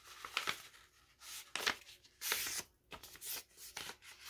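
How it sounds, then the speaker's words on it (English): A sheet of paper being folded in half, heard as a series of crisp rustles and crinkles in separate bursts, close and fairly quiet, with no talking. "take a piece of paper. Fold it this way, and then fold it in half, like this."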